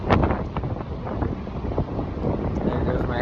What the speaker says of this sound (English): It is windy AF out here.